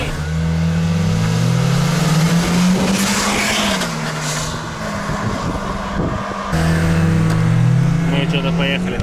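Cars launching side by side in an informal drag race, including a Hyundai Solaris 1.6 and a VAZ 2113 1.7 on individual throttles, engines revving high and climbing through gears, loud and close, with a brief tyre scrub and people talking over it.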